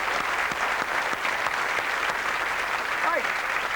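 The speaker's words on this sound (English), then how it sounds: "ladies and gentlemen, give her a round of applause." Studio audience on a TV talk show applauding, a dense continuous clatter of many hands clapping at steady volume throughout, with a brief voice rising near the end.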